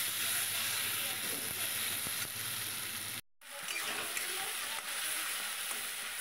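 Chopped tomato hits hot oil in an egg curry masala and sets off a steady, fine sizzle and hiss that continues quietly throughout, cut by a momentary break partway through.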